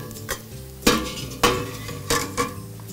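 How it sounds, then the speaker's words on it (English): Freshly boiled pasta is tossed with fig sofrito in a bowl, making a handful of close, distinct clattering knocks and soft wet shuffles over a low kitchen background, with no talking. "Toss it a few times to kind of let it mix, all those flavors go together."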